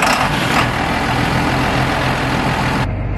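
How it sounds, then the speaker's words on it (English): A grain vacuum emptying flat-bottom canola bins on a farm gives a loud, steady, close mechanical roar with a deep engine drone, running unbroken and alone throughout. "we are vacuvating flat bottom bins, hence the hearing protection"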